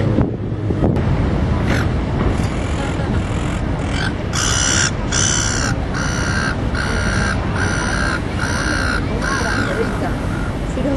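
A gull calls repeatedly in a harsh, rhythmic series of squawks over wind noise and a loud outdoor background.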